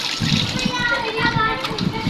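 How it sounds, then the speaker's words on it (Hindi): Water splashes and runs while a tava griddle is washed, a continuous wet splattering close by with children's and adults' voices chattering over it. "और ये मैं तवा धो रही हूँ"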